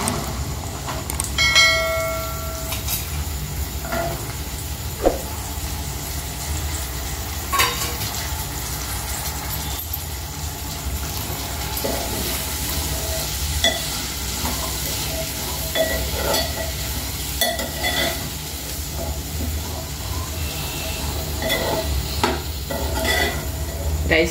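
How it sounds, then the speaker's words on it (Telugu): Cluster beans go into a hot pan with turmeric and are stirred, a steady moderate sizzle running under scattered clinks and scrapes of a spatula against the pan, with no talking. "ఇప్పుడు మనం ఈ గోకరకాయ వేసేసుకుందాం."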